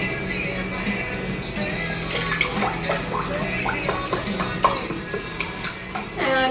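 Pacific brand broth is poured into a pot on a kitchen stove, giving a liquid splashing and gurgling over clinks and knocks of cookware, with a few sharp taps near the end.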